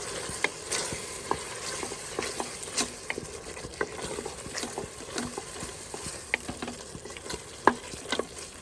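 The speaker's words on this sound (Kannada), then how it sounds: "ಈಗ 2 ಟೇಬಲ್ ಚಮಚದಷ್ಟು ಮೊಸರನ್ನು ಹಾಕ್ತಾ ಇದ್ದೀನಿ. ಚೆನ್ನಾಗಿ ಇದನ್ನು ಮಿಕ್ಸ್ ಮಾಡುವ." Vegetable pulao boils and sizzles in a pressure cooker while yogurt is stirred in, with a steady bubbling hiss broken by frequent small scraping and tapping clicks of the spoon against the pot.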